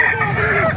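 A rooster crows loudly and close by at a poultry farm with chickens in Calumpit, Bulacan, a sustained bright call filling the short moment with no talk over it.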